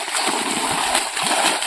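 Irrigation water splashes and gurgles from a pipe into a garden channel, close and steady and fairly loud, with air sputtering through the flow.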